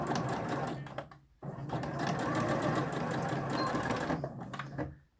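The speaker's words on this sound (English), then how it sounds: "come across to the sewing machine again. And sew those pleats down in place." A domestic sewing machine stitches pleats on a fabric face mask in two fast, steady runs separated by a brief pause, close and clear with no voices.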